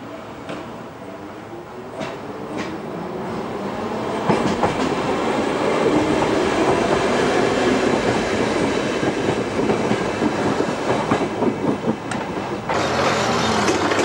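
A Berlin S-Bahn class 480 electric train at Tegel station rumbles loudly past with rhythmic rail clatter and wheel noise that builds after a few seconds and holds steady, close by with no talking.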